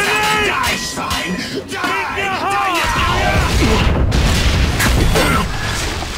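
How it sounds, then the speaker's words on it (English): Grenade blast in the Killing Floor shooter game, a deep booming rumble surging midway amid shouted game voices and combat noise. "Watch out, grenade! Grenade!"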